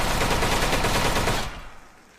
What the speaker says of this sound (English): The gunshot sound effects still sound so loud.